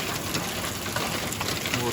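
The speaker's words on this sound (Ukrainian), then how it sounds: "Вулиці валить град." Hail and rain pounding a surface during a mountain storm in the Carpathians, a dense steady patter that fills the short stretch evenly at moderate level.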